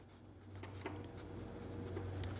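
A glass dip pen loaded with Monteverde Caribbean Blue ink scratches faintly across notebook paper in short strokes over a steady low hum.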